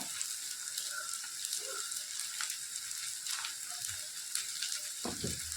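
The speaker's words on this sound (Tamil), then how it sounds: "ஆனியனை வந்து இதில் வந்து ஆட் பண்ணிக்கலாம்" Sliced onions fry in a hot pan for broiler chicken chukka, a steady bright sizzle running without a break, with a few soft stirring knocks near the end.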